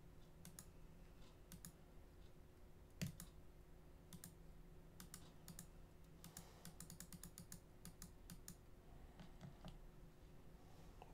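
A computer keyboard clicked repeatedly with the shift key held down, a quiet scatter of light taps and short bursts, close and alone with no talking.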